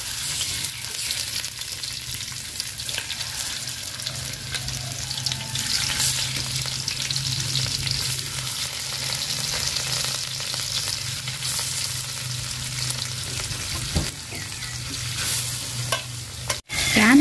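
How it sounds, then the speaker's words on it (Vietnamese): Fish fries in hot oil in a pan, a steady loud sizzle and crackle that continues for the whole stretch, with a few knocks near the end. "Dầu mình nóng mình thả cá và mình chiên nha."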